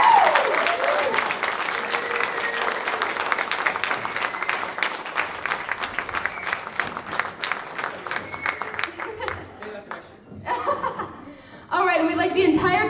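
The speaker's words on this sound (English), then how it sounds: "We all give him a round of applause" A high school drama club audience claps at a theatre night, sustained applause with scattered chuckles and laughter, thinning toward the end before people start talking.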